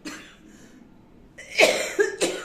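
Two or three sharp, rasping coughs close by after a brief quiet stretch, the last ones following in quick succession.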